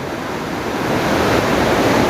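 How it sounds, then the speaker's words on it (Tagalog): Heavy rain pours down in a steady, dense roar that swells slightly louder partway through, with no voices. "lakas ng ulan"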